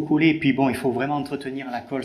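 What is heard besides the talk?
No everyday noises stand out.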